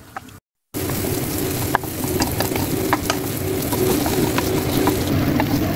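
Luncheon meat frying in a pan, a loud, steady crackling sizzle with sharp pops and faint scraping from stirring, close up and continuous.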